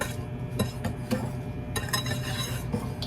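Dry Texas sheet cake ingredients stirred in a bowl make repeated clinks and scrapes of a utensil against the bowl in an uneven rhythm, close and moderately quiet.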